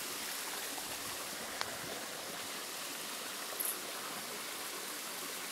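Tufa waterfall cascading in the Gorges du Verdon, a steady broadband rush of falling water, even and moderately close, continuing unchanged throughout with no voices.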